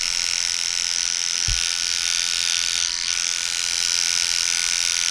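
An Oster cordless hair clipper runs close up while trimming a beard, a steady high-pitched electric buzz throughout with a brief low thump early on.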